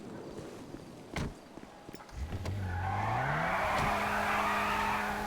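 A car in a roleplay video game rolls off with footsteps, skids and squealing tires, its engine rising steadily in pitch to a loud, continuous drone with no talking.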